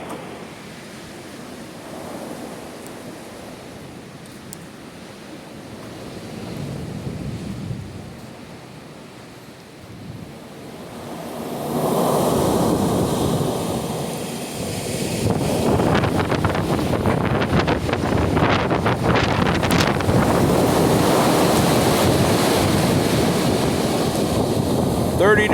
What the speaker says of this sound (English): Got us a little wind coming in today.